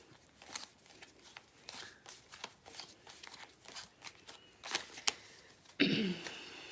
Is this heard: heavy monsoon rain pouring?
no